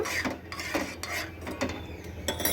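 A spoon stirring milk tea in a pot, a series of light scraping and clinking strokes in an uneven rhythm, close and fairly quiet, with no talk.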